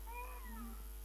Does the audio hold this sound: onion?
no